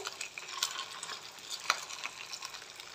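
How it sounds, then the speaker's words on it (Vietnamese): Steamed corn cakes fry in a pan with a soft, steady sizzle and an occasional stirring scrape, quiet and close, with no voices. "Mình chiên sơ như thế này là được rồi đó, là giòn rồi đó các bạn."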